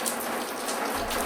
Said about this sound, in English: The sound of rain held my attention,